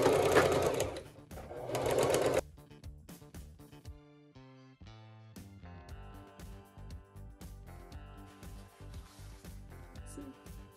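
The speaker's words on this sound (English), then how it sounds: "I will sew around the edge." Sewing machine stitching dress pieces together around the edge: a loud burst of machine whirring at first, then quieter tapping and ticking with faint tonal background sounds.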